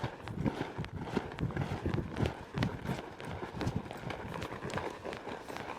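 A horse loping through a barrel pattern on soft ground, its hoofbeats a quick, uneven drumming of muffled thuds that runs steadily throughout at moderate distance.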